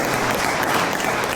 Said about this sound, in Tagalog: Muli, isang palakpak sa ating Panginoon